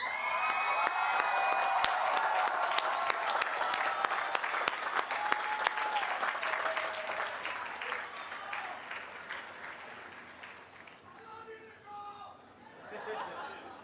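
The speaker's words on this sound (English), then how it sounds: "please join me by standing and giving those people a well-deserved round of applause." Audience at a Cal Poly Pomona College of Science commencement breaks into sustained loud applause with scattered cheers and chatter, fading toward the end as a voice begins to speak.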